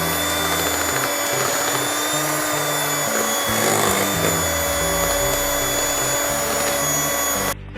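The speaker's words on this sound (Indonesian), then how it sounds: "kita mixer dengan kecepatan tinggi." An electric mixer beats thick ice cream batter at high speed, a loud steady whining motor drone with a constant high pitch and some shifting low churning, cutting off abruptly at the end.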